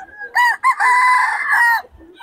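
A Raptors sweater gamefowl rooster gives a single loud, close crow lasting about a second and a half, standing alone without talk over it.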